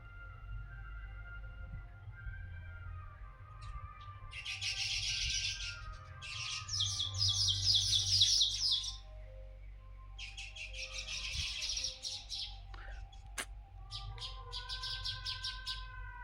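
Sparrows chirping close to a nest: repeated bursts of bright, high twittering calls over a low steady background hum, fairly near and quiet, with no talking.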